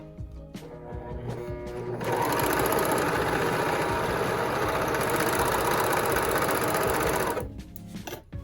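A sewing machine runs steadily for about five seconds, stitching a quarter-inch seam on a fabric bat wing face mask, with a dense, rapid mechanical whir that starts abruptly and stops cleanly, preceded and followed by quieter handling.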